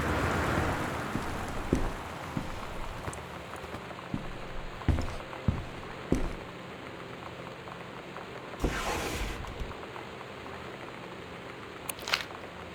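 Steady rain patters on surfaces in the video game Gone Home, broken by a few sharp cracks and a rolling rumble of thunder midway, with no voices.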